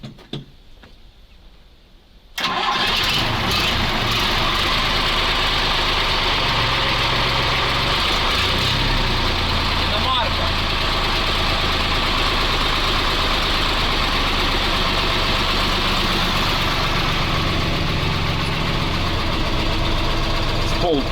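A MAGIRUS 170D truck's engine starts for the first time in half a year after about two seconds of near quiet, then settles into a loud, steady, rumbling diesel idle with a faint knocking texture that carries on to the end.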